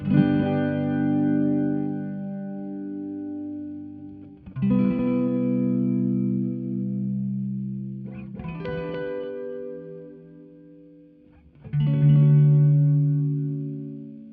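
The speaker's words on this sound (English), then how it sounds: "you can start to hear the delays kind of have a bit of a movement to it, gives it a little bit of a chorusing kind of effect" Sustained synth-like notes pass through the Time Dilation V5 delay plugin, each phrase echoing with a wavering, pitch-bending chorus shimmer; three or four tonal swells ring out alone with no talk.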